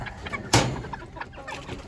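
Hens at a backyard coop, including Seramas, give soft scattered clucks, with one sharp louder burst near the middle and quieter murmurs around it, no talk.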